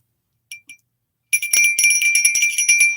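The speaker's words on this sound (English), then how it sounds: "I can't remember if I rang the bell for that lovely super chat." A hand bell rung during a live-streamed tea chat show: two short, separate rings, then about two seconds of bright, continuous rapid ringing close to the microphone, with no talking.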